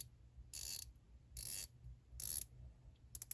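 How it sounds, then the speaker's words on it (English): Bezel of a Synchron Poseidon dive watch being turned, three separate bursts of crisp, close ratcheting clicks with quiet gaps between, faint overall. "Good bezel action though on both."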